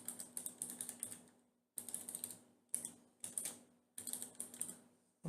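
Typing on a computer keyboard: quick bursts of close, crisp key clicks in several runs separated by short pauses, with no voices.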